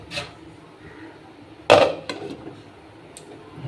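A metal lid set down over a pan of paneer curry on the stove, a single sharp clank near the mic followed by a few faint rattles against quiet kitchen background.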